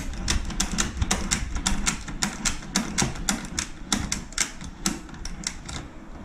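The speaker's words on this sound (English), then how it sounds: "then we're going to slip around to the front here, and then you're going to ratchet the front." A ratchet strap is cranked tight in a quick, steady series of sharp mechanical clicks, close and fairly loud, running for about six seconds with no talking.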